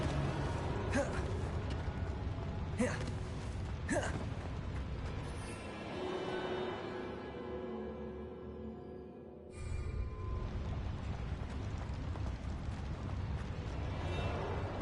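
Bombarda blast spell from the Hogwarts Legacy video game: sharp explosive bursts with cracking pops near the start, followed by rumbling, creaking debris and a sustained roar, loud and close with steady game ambience.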